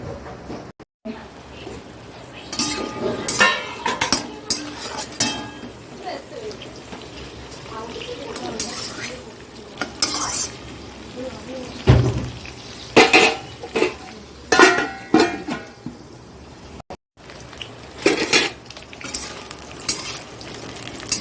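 Pointed gourd and potato pieces sizzle in a frying pan while a spatula scrapes and clatters against the pan in irregular bursts, with someone talking over the cooking noise.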